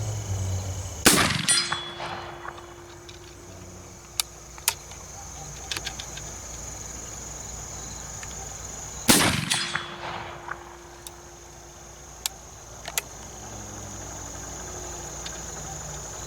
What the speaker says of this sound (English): I'm gonna take 3 shots and then Aaron's gonna take 3 shots.